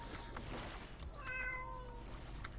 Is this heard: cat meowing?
yes